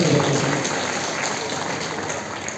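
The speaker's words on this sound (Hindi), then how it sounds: "एक बार जोरदार ताली।" Audience applause at a public gathering, a dense steady clapping from a large crowd that fades slightly over under three seconds, with no speech over it.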